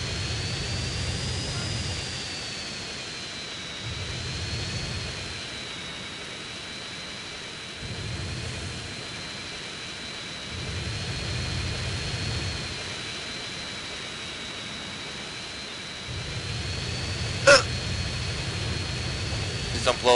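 Hovering jet aircraft in Grand Theft Auto: San Andreas, a steady whining engine drone with a high whistle running throughout, while someone talks over it in intermittent bursts and a couple of sharp clicks sound near the end.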